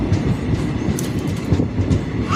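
A train travels on the Khandala to Karjat railway crossing, its wagons rumbling loudly with a steady clickety-clack of wheels on the track and a brief squeal near the end, heard close up and with no talk.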